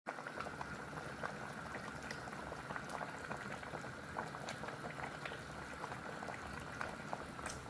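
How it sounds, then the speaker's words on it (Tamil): A pot of country chicken curry boiling steadily, with thick bubbles popping and gurgling in a constant simmer, close by and with no voices. "குழம்பு நல்லா கொதிச்சிக்கிட்டு இருக்கு பாருங்கள்"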